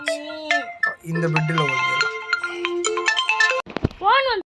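A phone rings loudly in the horror game Granny 2, playing a bright electronic melody for several seconds before cutting off, followed by a short chirping tone, with someone speaking briefly.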